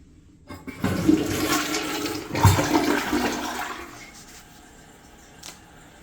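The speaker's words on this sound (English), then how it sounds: "And it's a pretty good flush," A hotel bathroom toilet flushes in a strong rush of water that peaks, then drains away and fades to quiet refilling, heard close with no talking.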